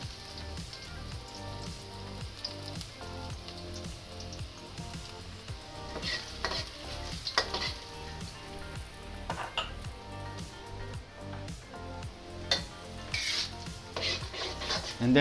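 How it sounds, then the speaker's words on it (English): Garlic sizzling in three to four tablespoons of oil in a Thai kitchen for shrimp curry stir fry, a continuous crackling hiss with intermittent scraping stirs of a utensil against the pan, fairly quiet and steady. "And then I'm gonna throw in my garlic."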